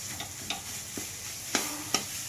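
Green chillies fry in a pan of oil with a faint, low hiss, punctuated by four or five sharp metallic taps from a spoon stirring against the pan.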